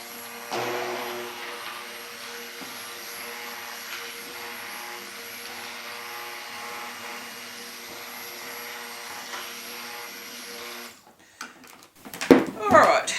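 A stick blender whirs steadily through cherry bomb soap batter for about eleven seconds, a continuous close motor hum that cuts off abruptly, followed by a few scattered knocks and clatters.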